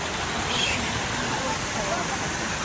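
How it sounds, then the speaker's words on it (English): Water flows through the hot mineral springs of Bagni San Filippo in Italy, a steady, even rushing wash heard outdoors at moderate loudness with no break. "these are the mineral springs"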